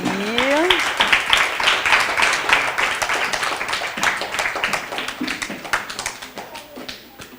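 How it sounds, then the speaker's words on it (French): Lively clapping from an audience at a children's Christmas dinner, close and dense with sharp individual claps, tapering off toward the end; a brief voice sounds at the start. "que je vous demande d'applaudir"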